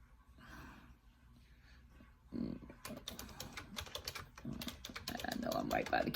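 Quick bursts of clicking on a computer keyboard, close and crisp, growing denser and louder toward the end, with a little breathing early on.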